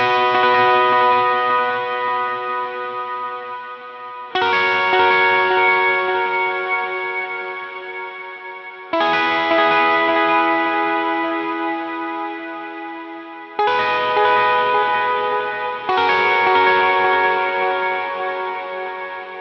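Electric guitar lead through distortion, chorus and echo effects, a handful of loud ringing chords and notes struck every few seconds and left to sustain and decay, played alone.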